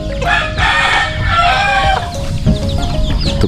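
Chickens cluck and a rooster crows repeatedly on a farm, the crowing close and loud over a steady background of fowl noise.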